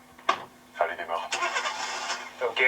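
A car engine cranks and catches in the video game Tracks, a few short bursts before a rough running note, heard close alongside voices talking.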